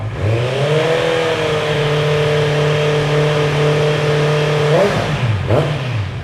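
A 2018 Honda CB650R motorcycle on its stock exhaust idles steadily and loud up close, then blips the throttle near the end, the revs climbing and falling quickly.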